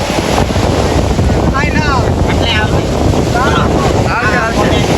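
Sea waves surge and wash ashore on the Kutch coast near Anjar amid strong, steady wind buffeting the microphone, with several excited voices shouting and whooping over the continuous loud roar.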